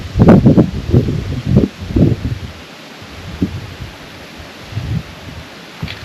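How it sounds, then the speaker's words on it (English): Wind gusts buffet the microphone at a cold night campsite in low rumbling bursts, loud and irregular, easing into a quieter steady rush between gusts. "Cold, windy day."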